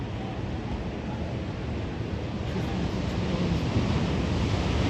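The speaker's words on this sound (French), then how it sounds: "Oui, les vagues." Bahamas ocean waves wash in a continuous surf roar, a broad steady rush mixed with wind buffeting the microphone and no voices.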